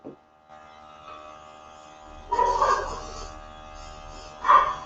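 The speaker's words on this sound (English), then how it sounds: "And I can just airbrush over it." An airbrush sprays makeup foundation with a soft airy hiss over a steady compressor hum, rising in two short bursts of louder spraying.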